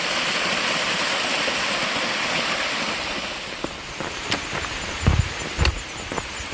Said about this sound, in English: One final waterfall before we get to town.